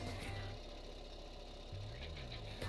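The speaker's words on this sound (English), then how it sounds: "Must be the engines in the game are too loud." Steady mid-pitched engine drone from tractors in a farming video game, a continuous idling rumble with a slight rise near the end, no voices over it.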